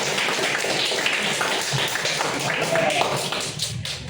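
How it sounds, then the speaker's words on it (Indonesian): A group of people claps hands in a dense, steady burst of applause lasting several seconds, loud and close, with voices mixed in. "Tepuk tangan."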